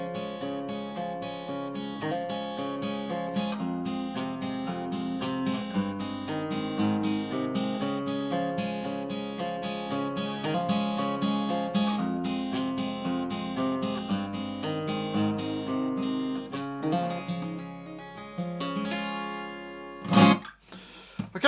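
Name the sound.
fingerpicked acoustic guitar playing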